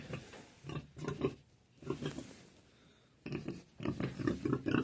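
Repeated low pig grunts in bursts, close by, with short pauses between groups of snorting oinks.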